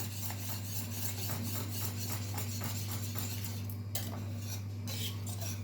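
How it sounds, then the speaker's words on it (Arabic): A utensil scrapes and knocks rhythmically against a cooking pot as food is stirred, a steady series of soft scraping strokes over a constant low kitchen hum. "بصوا احنا نفضل نقلب كده"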